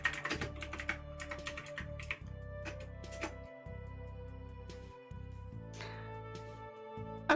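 Someone types quickly on a computer keyboard to run a Google search. The keystrokes form a steady, close-up clatter over a low hum and come in several short bursts with brief pauses between them.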